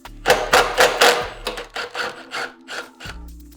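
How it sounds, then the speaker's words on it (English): Peeling and rubbing a sticker off a 1992 Yamaha XV750 motorcycle, heard as a run of about nine close scraping rubs in an uneven rhythm, loud and alone. "take that horrendous sticker off"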